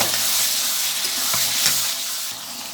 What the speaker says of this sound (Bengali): এখন আমি দিয়ে দিচ্ছি মশলার সাথে ভালো করে কষিয়ে এর সাথে আবার কিছু আলু দিয়ে দেব